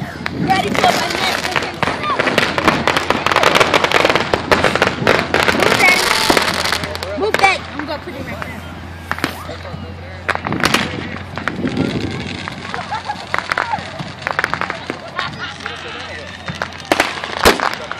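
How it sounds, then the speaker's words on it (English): Firecrackers pop and crackle in quick irregular bursts outdoors on the Fourth of July, some close and sharp, with people talking and shouting throughout. "She gonna be out here all day popping firecrackers if she going one by one."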